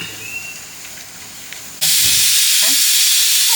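Pot of water heating on a stove for cooking tapioca, quiet at first, then breaking suddenly into a loud, steady hissing rush of steam and bubbling that carries on to the end.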